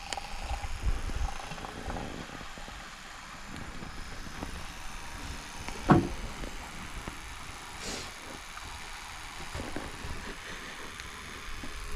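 A Trangia camping stove fitted with a Fishbone FB-02E burner gives a steady, moderate rushing roar throughout, with a single sharp click partway through.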